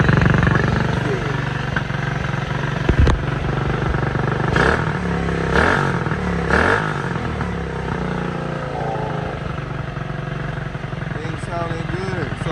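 A 140cc mini quad engine runs continuously close by with a loud, buzzy idle and a few short revs, while someone talks over it.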